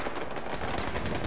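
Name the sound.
turrets firing, video game Fallout 4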